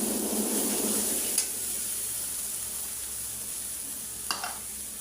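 Ground chili paste with coriander, turmeric and salt frying in a pan for a hilsa fish and stem curry, a steady close sizzle with a couple of faint scraping stirs, no talking.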